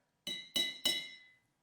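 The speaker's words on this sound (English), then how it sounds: "there's less room in each one for the glass to vibrate as we hit it with a spoon" A spoon strikes a glass partly filled with water three times in an even rhythm, each bright ringing clink sustaining briefly before the next, close and clear with no talking.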